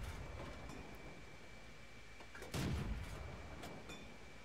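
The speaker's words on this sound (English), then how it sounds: "I go for a couple of blind shots" A Valentine AT tank destroyer in a video game, on the Provence map, fires one loud, booming cannon shot midway through, over a steady low engine rumble and ambient hum.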